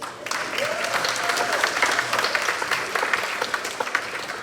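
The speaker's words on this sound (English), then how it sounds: "Another round of applause for Jim." An audience at a 30th-year awards gala applauds, dense, steady clapping from a crowd that carries through the whole stretch at moderate level, with no speech over it.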